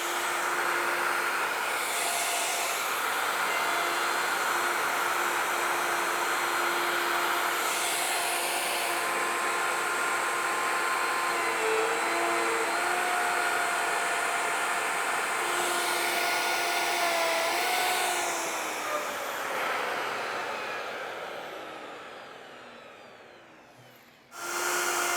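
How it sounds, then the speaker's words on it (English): A woodworking router fitted with a rabbeting bit cuts a rabbet into the wood parts of a counter-height chair. The loud, steady whine shifts slightly with each pass and winds down at the end. "use a rabbiting bit in my router to cut this rabbet or groove around each notch"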